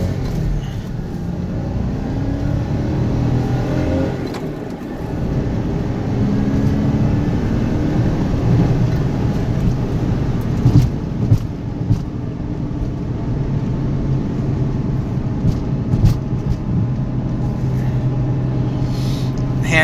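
A used car driving on the road, heard from inside the cabin as a steady engine drone and tyre rumble with a few small knocks and rattles throughout.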